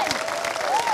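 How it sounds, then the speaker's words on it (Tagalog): A church congregation claps during a Filipino worship sermon, a short steady patter of applause. A voice or tone glides through it. "Mahinang palakpak yan, come on!"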